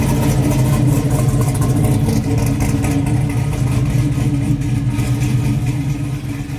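A 600hp Chevy C10 truck engine driving off, a loud steady low rumbling drone that eases slightly toward the end, with no talk.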